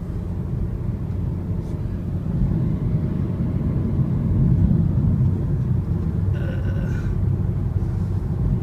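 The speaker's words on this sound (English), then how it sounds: "because we're in a car" Steady low road rumble and engine drone heard from inside a moving car on a calm, warm day, continuous and even throughout with no talk.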